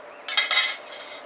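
Metal spoon and tin plate of a Civil War soldier's mess kit handled up close, a few quick clinks and scrapes in a short burst that then fades to a faint rattle.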